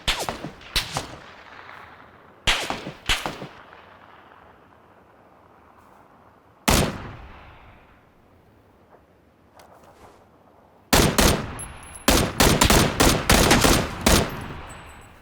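M16 assault rifle fire in a video game: scattered single cracks and short bursts separated by quiet gaps, ending in a dense, rapid volley, loud and close.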